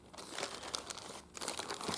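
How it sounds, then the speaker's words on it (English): A plastic zip-seal bag crinkles and crunches steadily for about two seconds as it is handled up close during a kids' sculpture lesson, with no voices over it. "put it into a plastic bag that can be sealed up"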